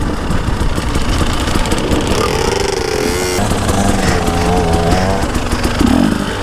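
An enduro motorcycle engine idles close by with a steady, loud rumble for several seconds, its pitch wavering slightly and then holding even.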